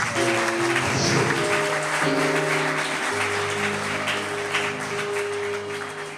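A church congregation at the Free Methodist church of Fontamara claps in a steady, loud wash of applause, with sustained musical tones running underneath throughout.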